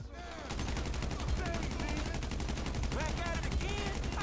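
Rapid gunfire from a shootout in the video game GTA V, a dense continuous burst of shots with whooshing bullet sounds, loud and sustained throughout.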